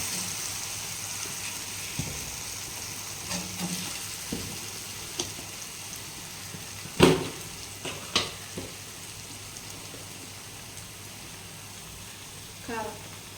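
Chili powder frying in hot oil with cooking gongura leaves, a faint, steady sizzle in the background with a few soft clinks and stirring taps.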